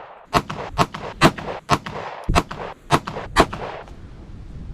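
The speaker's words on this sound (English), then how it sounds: "We're gonna shoot this defensive ammo, see how it groups." Sig X Macro pistol firing defensive ammunition at a range, about nine sharp close gunshots in a steady deliberate rhythm roughly half a second apart, loud and distinct.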